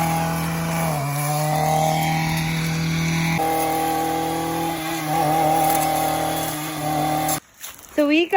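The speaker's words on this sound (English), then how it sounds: "So we got this blade that goes on a weed eater. It's kind of like a chainsaw blade." Weed eater fitted with a chainsaw-style blade cutting thorn bushes, a loud sustained engine whine that shifts pitch as it bogs and revs, then cuts off near the end with brief rustling and clatter.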